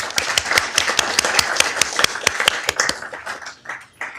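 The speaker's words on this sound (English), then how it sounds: "please give them all a round of applause." Audience at a Downey city council meeting claps in a chamber, a dense burst of sharp, distinct hand claps that thins out and fades toward the end, with no talking over it.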